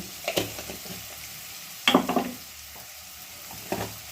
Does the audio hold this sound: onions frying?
yes